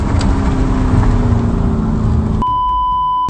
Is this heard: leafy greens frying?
no